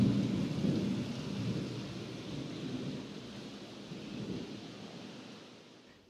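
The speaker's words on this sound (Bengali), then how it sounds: "বাইরে এখনও মেঘ ডাকছে" Low thunder rolls through a storm with rain, a long, deep rumble that swells early and slowly fades, ending in a sudden sharp knock; no one speaks.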